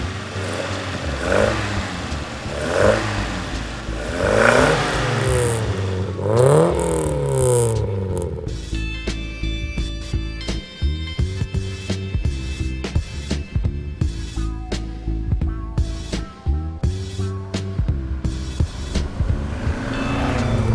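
A classic Alfa Romeo GT Junior engine revs in rising and falling sweeps, then the car pulls away and drives on, its note climbing through gear changes with brief drops between shifts, loud and close the whole time.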